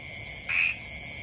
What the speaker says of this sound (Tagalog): Naglabasan po kasi ang mga palaka